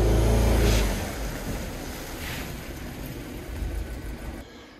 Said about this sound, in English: I can confirm that this has a solid misfire on one of these cylinders